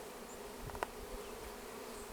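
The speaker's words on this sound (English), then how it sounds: "Yeah, a lot of bees." Bees swarm and buzz around a newly installed Bravo 1 hive on a ranch, a steady outdoor hum with a brief louder pass near the microphone and no talking.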